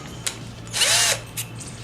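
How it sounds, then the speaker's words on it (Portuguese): A woodworking power drill whirs briefly as its chuck is spun to release the bit, with sharp mechanical clicks before and after, close and alone. "galera, eu vou tirar aqui a broca"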